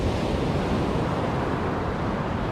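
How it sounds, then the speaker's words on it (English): Big ocean waves break in the surf at New Smyrna Beach, a continuous heavy roar with wind buffeting the microphone and no voices. "You can't get within 25 feet of the edge of the surf because of that right there, those big waves."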